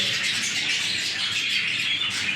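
Showjumbo pigeons call and coo steadily over a constant bright chirping bird chorus, sounding fairly close, with no talk.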